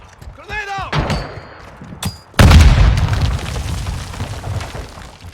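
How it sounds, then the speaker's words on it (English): A grenade blast in Call of Duty Modern Warfare 2 lands as a sudden loud boom with a long rumbling tail, following brief game chatter and a radio-like voice line during an objective match. "Grenade out."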